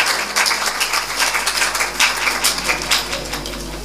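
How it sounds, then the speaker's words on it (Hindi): An audience claps dense and steady after a children's Sunday School Christmas drama at a Baptist church, a broad close patter of many hands sustained throughout. "आप सबकी भरपूर तालियां।"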